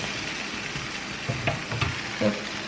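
Egg-and-bread toast fries on a low flame for Korean street toast, a steady soft sizzle with a few faint scrapes of a utensil.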